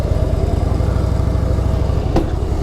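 A motorcycle on a monsoon ride through the Kerala ghats near Kannur runs with a loud, steady engine thrum and rapid pulsing exhaust beats, recorded close up from the rider's position without pause.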